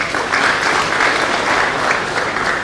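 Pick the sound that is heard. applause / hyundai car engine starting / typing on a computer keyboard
applause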